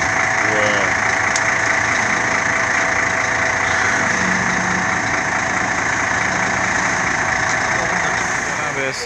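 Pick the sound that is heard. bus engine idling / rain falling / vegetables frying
bus engine idling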